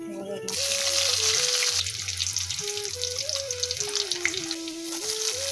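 Cumin seeds and bay leaves crackle and sizzle in hot oil in a home kitchen for egg curry, a steady hiss heard close by while people talk.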